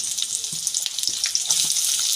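Onions and bay leaves frying in plenty of oil in a kadai, a steady bright sizzle with a few soft clinks of stirring, close and alone.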